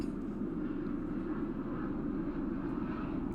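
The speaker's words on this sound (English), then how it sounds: "A helicopter's going by right now." A helicopter flying overhead makes a steady low rumbling drone at moderate distance, holding a fairly even level throughout with no speech.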